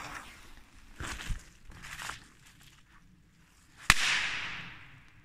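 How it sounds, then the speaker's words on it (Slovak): A small Miniborg firecracker, about ten years old, goes off in a single sharp loud bang that decays briefly, preceded by faint rustling and footsteps outdoors. "A poďme na Miniborg petard."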